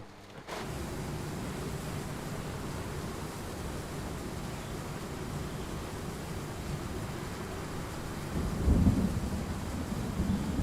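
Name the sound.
thunder rolling in video game Train Sim World 3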